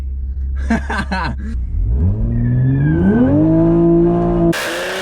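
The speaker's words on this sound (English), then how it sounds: "Do you want to do a burnout?" A Toyota Supra revs up for a burnout: loud engine rumble rising in pitch as it climbs through the revs, holding a high steady drone, then cutting off abruptly into a harsh burst of tire noise near the end.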